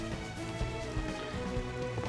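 Rain falling in Xenoblade Chronicles, a soft steady patter beneath tonal game music, fairly quiet and continuous.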